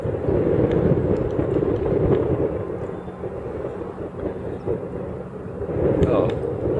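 A KC-135 aircraft flying, a steady low roar that fills the whole clip and swells slightly near the end, with faint chatter in the background.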